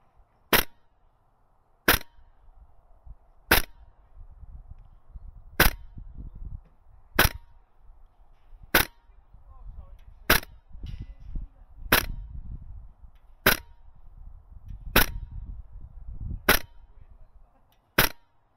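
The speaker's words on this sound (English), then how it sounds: "you'll hear the ting of the BBs hitting the targets" A Toxicant MWS MCX Spear LT airsoft rifle firing single shots at a steady pace, each a sharp close crack, a dozen or so in all, with faint metallic pings of BBs striking targets in between.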